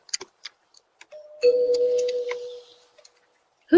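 A parrot mimics a doorbell ding-dong, giving a sustained clear electronic-sounding tone after a few faint ticks and clicks, up close in a quiet room.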